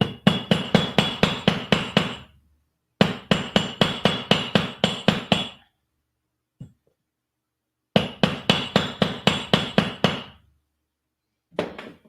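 A hammer pounds the end of a metal wire for a bead-and-resin spider. The blows are sharp and rapid, coming in three quick bursts of about ten strikes each, with a couple of lone taps and silent gaps between them.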